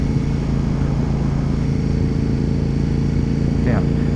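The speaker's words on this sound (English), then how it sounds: "I was now spinning the bike a lot harder on the shorter straightaways" A motorcycle engine drones steadily on a race track, a constant close hum beneath a rider's talking, with no clear revving changes.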